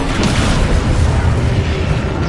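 Spell blasts and explosions in the Hogwarts Legacy game, a loud continuous roar of booming detonations that fills the whole stretch, dense and near without clear separation between hits.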